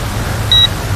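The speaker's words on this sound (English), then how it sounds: "we just had the beep acknowledging that that's calibrated" A single short, high electronic beep from an E520S drone confirms a successful horizontal calibration, clear above a steady background hiss with no talking.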